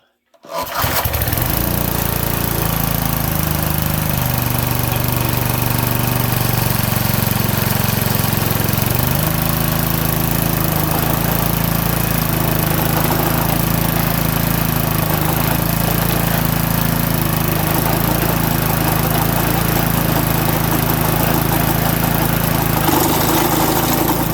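A Troy-Bilt sickle mower's small engine catches after a pull start and settles into a steady, loud idle with constant low rumble throughout; a voice talks briefly at times.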